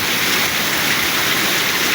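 Heavy rain pours steadily outside a house, a loud, unbroken broadband hiss with no pauses or voices for the whole stretch.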